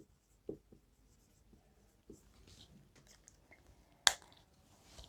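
A pen scratches out a maths calculation on paper in soft, close strokes and taps, ending with one sharper tap near the end.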